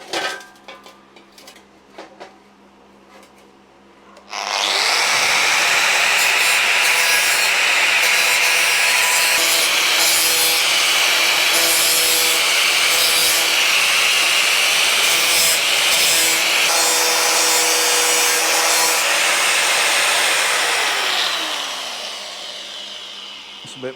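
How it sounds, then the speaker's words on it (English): An angle grinder skims a metal edge straight during metalwork, a loud, sustained whine and rasp lasting nearly twenty seconds after a quiet start, then tapering off at the end. "we can just skim the grinder down there and make that nice and straight."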